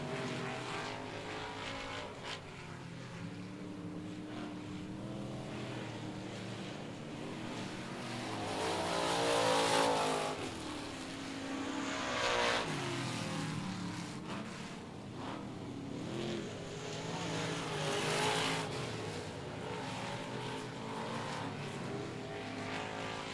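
Race cars run laps at Cotton Bowl Speedway, their engines roaring continuously at mid distance, swelling and fading as the pack passes, with no talk.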